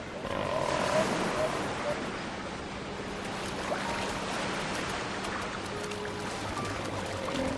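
Fur seals calling in a rocky bay on the Falkland Islands, a dense, continuous wash of rough roaring and barking voices over steady surf, moderately loud throughout with no break.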